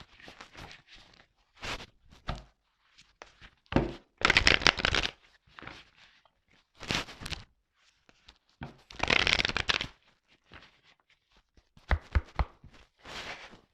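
Tarot cards are shuffled close by in quick papery riffles and flutters, coming in irregular bursts with short quiet gaps between them.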